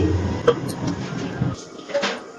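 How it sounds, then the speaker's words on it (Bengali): Metal lid set down over a cooking pot on a gas stove turned to low flame while vegetables cook, a light clink and rattle heard close against a soft background hiss of the kitchen. "এবারে গ্যাসের ফ্লেমটা একদম লোতে রেখে একটা ঢাকনা দিয়ে ঢেকে দিচ্ছি।"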